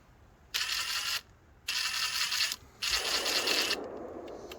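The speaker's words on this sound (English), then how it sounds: "this is fixing and rethreading the bolt there" A thread repair tool rethreads a bolt on a broken go-kart in three bursts of gritty, scraping metal-on-metal rasping, each lasting under a second, separated by short pauses and up close.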